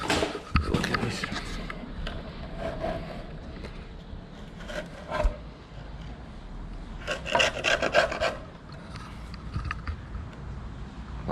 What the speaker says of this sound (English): I've got a little chisel here